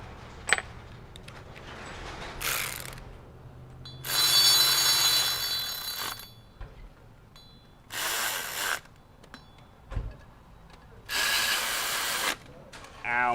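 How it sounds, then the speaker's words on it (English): A hand ratchet runs bolts in during a transmission replacement on a 2010 VW CC, sounding in several separate bursts of rapid close clicking broken by pauses and small clunks. "Let's get our ratchet. Run them on in."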